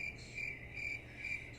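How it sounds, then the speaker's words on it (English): Crickets chirp steadily in a molting enclosure, a continuous shrill trill pulsing in short repeated bursts, faint and close, with no voices. "there's other crickets moving about"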